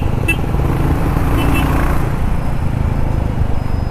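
A 2021 new-generation Royal Enfield Classic 350 motorcycle being ridden, its engine thumping in a loud, steady low throb together with road and wind noise.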